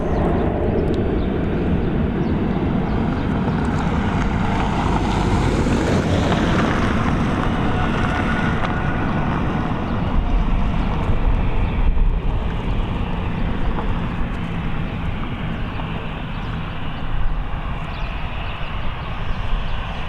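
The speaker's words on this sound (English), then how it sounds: "next up we have this Ryanair flight. It's a Boeing 737 coming in from Tetuan." A Ryanair Boeing 737 arriving from Tetuan roars loudly and steadily as it comes in to land, its jet rumble mixed with buffeting wind noise on the microphone.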